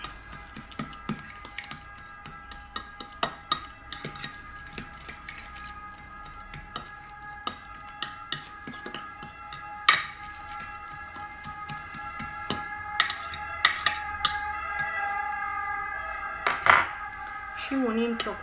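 A metal utensil scrapes and taps against a bowl while stirring a banana and walnut mixture, with irregular clinks and a steady scraping rhythm, fairly close and clear.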